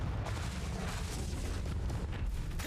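A Confringo blasting spell explosion in Hogwarts Legacy, heard as a dull booming burst over a steady, dense roar of game noise that holds the same level throughout, with no distinct sharp onset.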